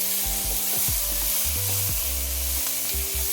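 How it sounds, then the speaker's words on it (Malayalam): Fish pieces fry in a pan with capsicum and onion, making a loud, close, steady sizzle. Bursts of stirring and tossing sit on top, and no voice is heard. "ഇതിലോട്ട് നമുക്കിനി മീനിട്ട് കൊടുക്കാം നല്ലപോലെ മിക്സ് ചെയ്യാം"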